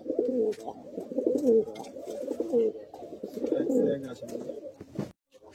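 A breeding pair of pigeons in a loft coos steadily and up close, with soft, repeated throaty rolling phrases that continue almost without a break.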